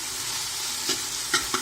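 Ginger garlic paste fries with onions in a pan for a chicken curry, giving a steady, close hiss of sizzling. A few soft stirring scrapes break through it, and no one speaks.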